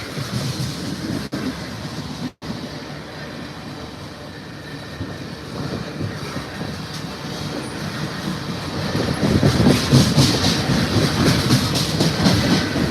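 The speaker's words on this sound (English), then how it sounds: "the oil train on the CPKC precedes the oil train here on the BNSF for tonight." A BNSF freight train carrying crude oil in tank cars rolls past in Ottumwa, Iowa, with a continuous heavy rumble and steady clickety-clack of wheels growing louder toward the end.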